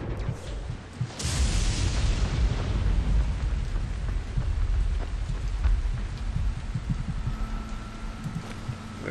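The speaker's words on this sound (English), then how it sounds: "These storms are getting bad in the country over here." A thunderstorm in Dying Light roars continuously with heavy rain and deep rolling thunder, a loud crack near the start, sustained and close with no talking.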